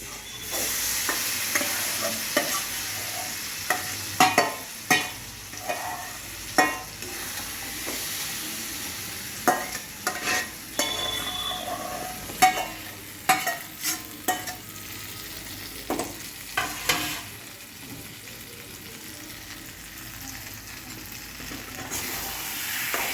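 Shredded cabbage sizzles steadily in a hot pan for bandhakopir dhoka while a spatula scrapes and stirs it, sending repeated sharp clattering knocks over a constant close hiss, with no voices.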